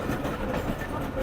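The Awam Express passenger train rolls slowly at Gujar Khan railway station, a close, steady rumble of wheels and carriages with faint rhythmic clatter, a voice briefly audible in the background.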